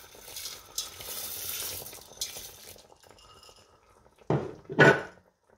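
Yellow lentils (dal) tipped into a stew pot after an hour of cooking: a soft pouring rustle and faint simmer, then two sharper clattering knocks against the pot near the end, close by.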